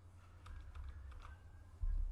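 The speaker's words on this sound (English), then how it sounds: "So we need to type here" Quick clicking keystrokes on a computer keyboard, close and fairly quiet over a steady low hum, in a short burst while an IP address is entered.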